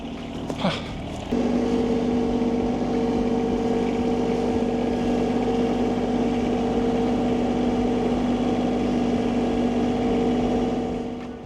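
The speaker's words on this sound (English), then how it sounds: "now I'll push it with the tractor" A tractor engine drones steadily as it pushes a log, a continuous low hum that swells abruptly after a brief start and then holds at an even level.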